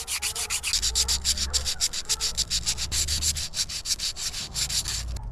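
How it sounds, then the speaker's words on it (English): 100 grit sandpaper rubs along the nail shank of a homemade elk antler scratch awl in quick, even back-and-forth strokes. The rasping is close and rhythmic, with no speech. "I've got some 100 grit sandpaper and I'm just going to be working in the direction of the shank"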